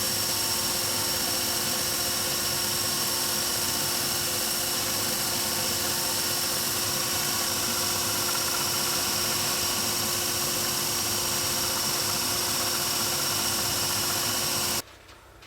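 A belt sander runs steadily on a wooden workpiece, a continuous droning whir with a high whine that holds for about fifteen seconds before cutting off abruptly.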